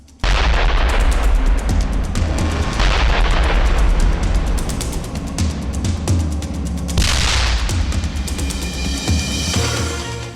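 Explosions from drone attacks in Ryazan, Russia, during the Russia–Ukraine war: loud repeated booms and blasts with rumbling aftermath, several heavy hits spread across the stretch with crackling between them.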